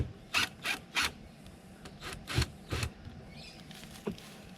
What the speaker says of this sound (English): Getting the Sikaflex off is, you gotta use friction, manual labour. So I've got a scraper